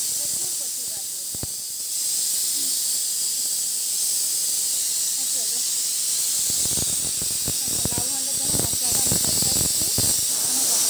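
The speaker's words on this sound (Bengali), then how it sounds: "এটা আমি লাউ ঘন্টর মশলাটা কষাচ্ছিলাম তখন" Spice paste for bottle gourd ghonto sizzling and frying in a pan, a steady bright hiss with scattered crackles and scraping stirs growing busier toward the end.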